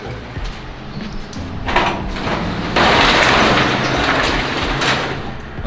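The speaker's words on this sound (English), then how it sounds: "Maybe we'll open the doors for some more natural lighting. That's right, automatic doors, man." An automatic garage door on an old-school Northeast house garage opens with a continuous mechanical rumble and rattle that swells sharply about halfway through and carries on steadily to the end, with no voices.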